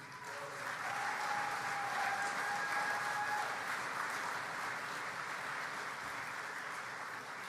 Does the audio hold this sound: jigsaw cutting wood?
no